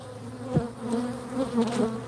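Honeybees from a weak colony at an opened hive hum steadily and close by, a continuous low drone with a few brief louder swells.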